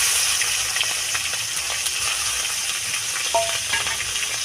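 Cumin seeds and slit green chilies fry in a pan while being stirred. A loud, continuous close sizzle runs throughout, with light scraping from the stirring and no voices.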